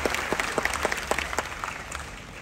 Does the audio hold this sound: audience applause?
yes